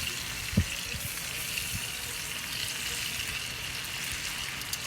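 Honey garlic wings brushed with sauce sizzle steadily on an open-fire grill, a soft continuous crackle and hiss with one brief knock near the start.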